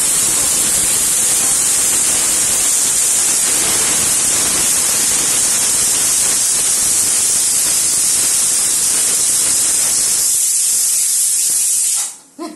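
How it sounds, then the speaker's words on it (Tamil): A loud, sustained steam hiss from a pressure cooker whistle, roaring steadily for several seconds before cutting off abruptly. "ரெண்டு விசில் வந்துருச்சு."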